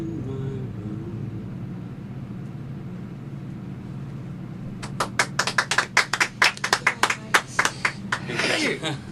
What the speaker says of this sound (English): Oh, you even clapped?